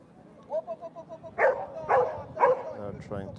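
At a Mondioring world championship trial in Portugal, a dog gives a run of short whining yips followed by several louder barks and yelps as decoys confront it, with voices present in the background.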